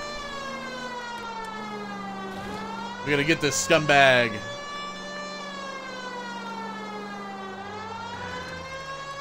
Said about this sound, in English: This is an emergency. Turn on the sirens.